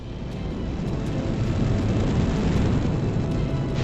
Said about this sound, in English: the most powerful rocket at its disposal, the Delta IV Heavy, with a takeoff thrust of 8 Boeings